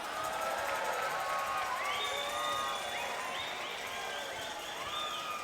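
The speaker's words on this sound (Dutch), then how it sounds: "kan ik een daverend applaus vragen voor de dansgroep die ik bij me heb" An indoor concert audience applauds and cheers for a dance group, a loud, steady wash of clapping with scattered whistles and shouts throughout.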